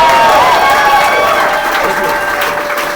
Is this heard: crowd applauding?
yes